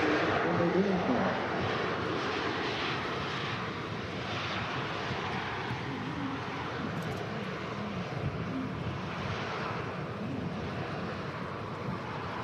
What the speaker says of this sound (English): The reverse is closing now on the Ryanairs